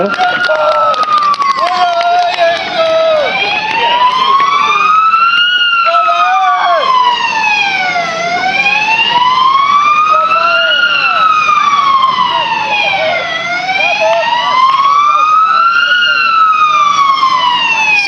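A fire engine arrives at a car-fire demonstration with a loud, close wailing siren that sweeps up and down in long rising and falling cycles for the whole stretch, over faint crowd noise.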